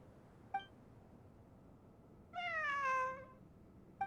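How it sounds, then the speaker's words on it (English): A cat meows once in Genshin Impact on PS5, a clear drawn-out meow standing alone over a quiet ambient bed, with faint clicks before and after. "It really is a cat."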